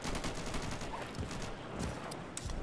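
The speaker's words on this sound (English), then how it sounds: "That was an AK." AK rifle gunfire in the video game Insurgency, rapid repeated shots in a steady, dense volley that runs throughout at moderate loudness with no voices.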